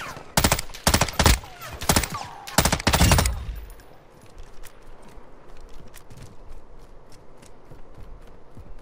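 Rapid bursts of automatic gunfire in Call of Duty DMZ, loud and close in several quick volleys, then fading to scattered distant shots and ambient rumble.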